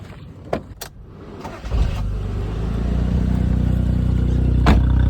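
A Nissan Atlas truck engine cranks briefly after a couple of clicks, then catches and settles into a steady, loud idle close by.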